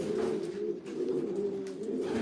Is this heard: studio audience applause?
no